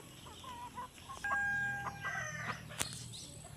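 Chickens about four months old cluck and call close by in a backyard setting, with brief squawks and a short crow-like cry over quiet rustling background.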